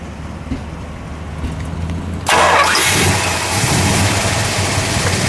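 A 1968 Plymouth Road Runner's 383 V8 cranks and fires up at once into a loud, rumbling run that settles into a steady, throaty idle close by.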